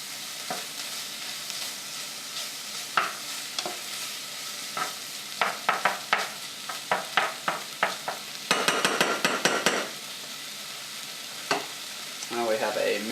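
Marinara sauce for French bread pizza sizzling in a pan while a utensil stirs it, with a steady frying hiss under a series of scraping, clacking strokes and a brief burst of rapid stirring, close and without talk.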